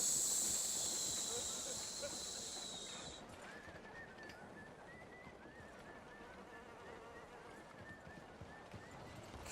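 A horse in a video game arriving after being called, with clip-clop hooves and snorting heard faintly under a low ambient insect buzz and background noise.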